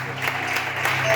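Church congregation applauding during a sermon, a brief, moderately loud wash of clapping that swells slightly toward the end.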